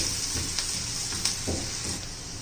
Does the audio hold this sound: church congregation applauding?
no